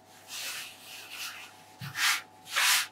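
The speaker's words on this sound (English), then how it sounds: "Now, did you hear that noise? That's just because the granules of the flour on it." A texture roller rubs across polymer clay dusted with flour, giving a soft, gritty scraping in several strokes, the last two louder and closer, with a brief low thump between them.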